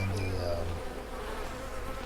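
Bees buzz around a beehive on a farm in Farmers Dynasty, a close humming drone that starts strong, thins after a moment and then carries on as a soft steady buzz.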